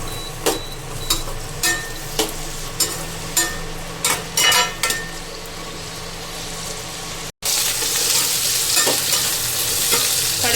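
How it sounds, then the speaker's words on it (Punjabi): Potatoes stir-fried in a pan for aloo shimla mirch: a run of sharp, regular spatula scrapes over a steady sizzle, then a louder continuous frying hiss after a brief cut, close up and with no talking. "ਅਸੀਂ ਇਹਨੂੰ ਵੀ 2 ਮਿੰਟ ਫਰਾਈ ਕਰਾਂਗੇ ਆਲੂ ਨੂੰ"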